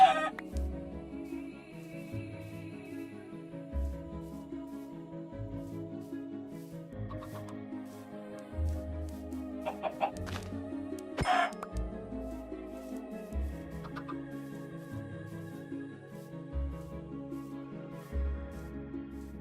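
Chickens cluck softly in the Minecraft video game, faint and scattered over a quiet, low game backdrop, with a few brief sharper clucks standing out midway.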